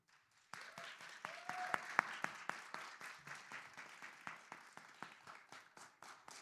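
An audience applauds presidential candidates at a student executive officer debate, a steady crowd clapping that starts abruptly, swells with a few sharp louder claps and continues evenly at moderate distance with no talk over it.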